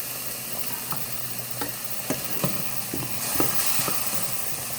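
Tomatoes go into a pan of vegetables cooking down for an Italian veggie pasta, a continuous soft sizzle with several sharp spoon taps and scrapes against the pan at irregular intervals.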